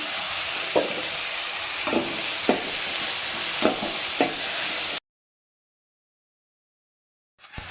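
Tomatoes sautéing with onions in a pan for Kerala-style fish curry, a continuous loud sizzle with several soft scraping stirs, then sudden silence before the sizzle briefly returns.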